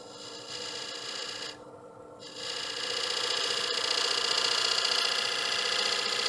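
A freshly sharpened 3/8 gouge cuts a wooden platter spinning on a lathe, giving a continuous close rasping drone over the motor's hum; the sound dips briefly, then returns steadier and louder.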